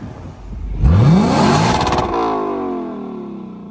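A Lexus LC500 engine revs once, its pitch sweeping sharply upward into a loud, sustained roar, then easing off into a steady high drone heard close up.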